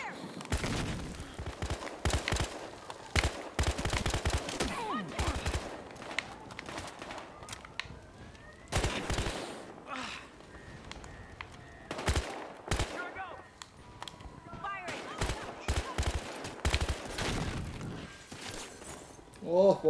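Bursts of rapid gunfire in the game Battlefield Hardline, loud and close, come in several clusters separated by brief pauses, with voices talking over the action.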